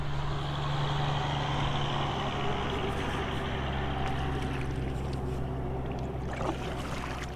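A fishing boat's outboard motor hums steadily at close range as the boat gets underway, a constant low drone with rushing water noise layered over it.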